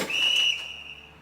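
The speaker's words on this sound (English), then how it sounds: "It's my indicator whistle. Blow my whistle." A single sharp, high, steady whistle blast sounds close and loud for about half a second, then fades away.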